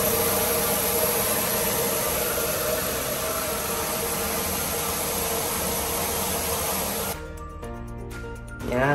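A coin-operated rice milling machine in Japan runs loud and steady, a dense mechanical whir and rush that cuts out near the end, leaving quieter clicks and rattles.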